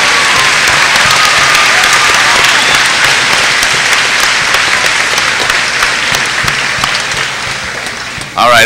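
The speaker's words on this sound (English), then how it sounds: "I think we should get a round of applause for Miss Rojas for pronouncing all those names." A school audience applauds for Miss Rojas in a sustained round of clapping. The applause is dense and loud at first, then thins and fades toward the end.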